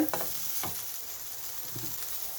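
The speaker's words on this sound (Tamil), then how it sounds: "இந்த வெங்காயத்தை போட்டு வதக்குறேன்" Sliced onions sautéing in a pan give a steady broadband sizzle, broken by a few soft scrapes of stirring, close and moderately quiet.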